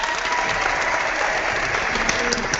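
Clapping sound effect triggered from an app's sound panel, a dense, continuous burst of crowd applause played back at steady loudness, with faint voices beneath it.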